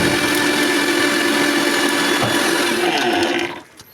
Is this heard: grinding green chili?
yes